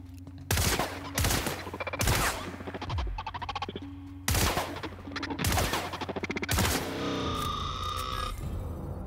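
Pistol fire rings out in the sci-fi video game The Outer Worlds, with about seven sharp, loud shots spaced a second or so apart over a steady low game hum, ending in a ringing, bell-like tail.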